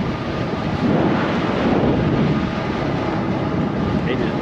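Steady, heavy wind roars across the microphone during an eAhora X5 Plus e-bike ride on a trail, a loud, constant whoosh that swamps everything else for the whole stretch.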